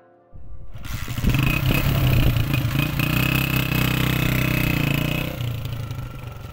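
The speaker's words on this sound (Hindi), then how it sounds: "चलो अभी स्टार्ट करते हैं बाइक।" A motorcycle engine kick-started in the mountains catches after a brief silence and settles into a loud, steady, clattering idle close by, then drops slightly in level near the end.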